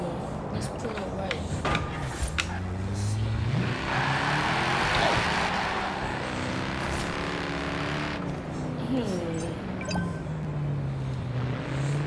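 A car engine in the racing game Forza Horizon 4 drones steadily for about twelve seconds, its pitch rising and falling as the revs shift, with a brighter rushing layer swelling midway through.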